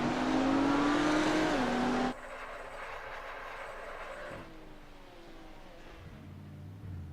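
A GT3 race car engine at the Hungaroring in a sim racing championship, a loud sustained rev that rises and then cuts off abruptly, followed by quieter engine drone and a brief rev near the end.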